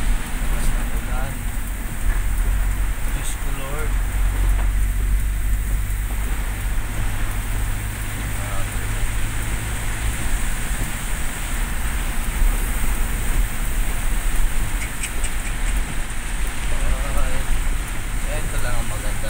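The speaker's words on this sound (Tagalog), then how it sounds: "Lakas ng ulan." Heavy rain pours steadily on a vehicle on a Saturday morning, a dense continuous roar of drumming water that lasts throughout, with a person speaking briefly over it.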